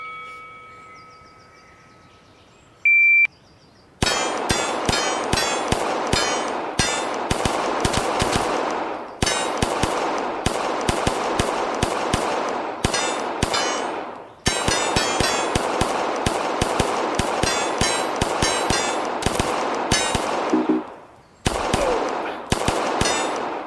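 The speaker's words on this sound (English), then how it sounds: "Took some extra shots on the poppers out there." A practical shooting match stage with a steel rack and poppers: a short shot-timer beep, then fast, dense strings of gunshots with pauses between volleys, loud and close, no talking.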